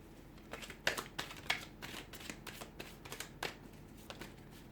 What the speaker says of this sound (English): I'm going to give the cards a shuffle and see what the cards predict for you here in terms of love.